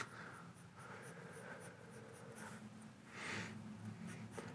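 An F pencil sketching on paper, a soft, faint scratching of steady, close strokes with brief pauses, heard alone.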